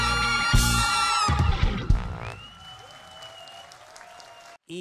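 A concert audience at a duo's 20th anniversary stage show in 2019 bursts into loud, dense applause that swells, then thins out over a few seconds before a brief cutoff, with faint crowd noise underneath.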